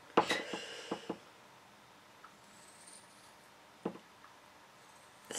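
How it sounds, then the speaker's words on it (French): Scissors cut a balloon in a few sharp snips and rubbery crackles, clustered at the start with one more isolated snip later, close and quiet against a still background. "Fastidieux de couper un ballon."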